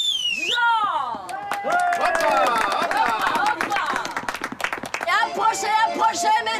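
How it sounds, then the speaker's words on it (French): Spectators clap at a storytelling show. Scattered, brisk claps rise and fall under a performer's continuous, animated talking. "On applaudit"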